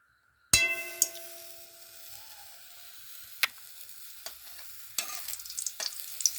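Grated carrots hit hot ghee for gajar halwa with a sudden loud hiss that settles into a steady, close sizzle, broken by a few sharp clinks and scrapes of stirring toward the end.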